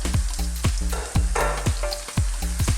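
Baby corn sizzles and fries in a pan with softened vegetables for a vegan Thai tofu, mushroom and coconut milk dish, steady crackling broken by clinks and scrapes of stirring, close up with no talk.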